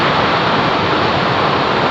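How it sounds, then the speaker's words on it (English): Steady, loud rushing water at Ermayi Falls, heard from the middle of the waterfalls; a dense, unbroken roar fills the whole clip with no voices over it. "We are in the middle of the waterfalls."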